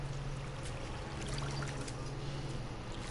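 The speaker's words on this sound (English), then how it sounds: "did I just walk through some water?" Footsteps through shallow water on a rocky planet in the game No Man's Sky, heard as a continuous low splashing, trickling wash at moderate level.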